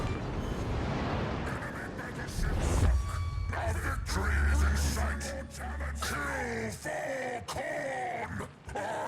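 Heavy battleship main guns in World of Warships fire a salvo, a deep rolling boom that swells and sustains for a couple of seconds amid game noise and radio chatter, with someone talking over it.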